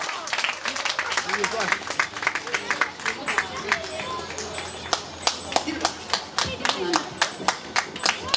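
Audience applause for a singer at a Tibetan Kongpo Losar celebration in San Francisco, California; a crowd claps steadily with sharp individual claps standing out, murmuring voices beneath, the clapping growing crisper and more distinct toward the end.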